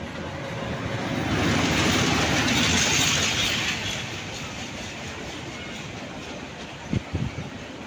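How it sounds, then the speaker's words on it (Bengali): The new Narayanganj commuter train on the Dhaka–Narayanganj line rumbles past. The roar swells to a peak and slowly fades, then a few sharp wheel clacks sound near the end. "আমি যেই ট্রেনটি এখন দেখাচ্ছি সেটি নারায়ণগঞ্জ কমিউটার ট্রেন।"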